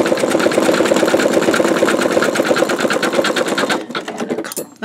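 An embroidery machine stitches out a bumblebee quilt block, a steady rapid mechanical whirr running loud and close for most of the stretch, then breaking into a choppier, uneven rattle near the end.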